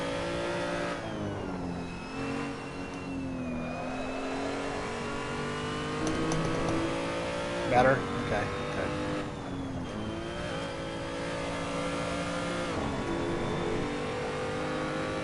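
A car engine in a racing video game revs and drones with shifting pitch, rising and falling loudly and steadily, while a person speaks briefly over it.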